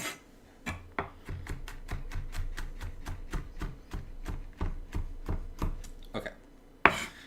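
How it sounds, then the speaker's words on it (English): A knife chops garlic on a cutting board in a steady, quick rhythm of close, crisp taps lasting several seconds, ending with a brighter clatter. "And that's as finely as I'm going to chop that."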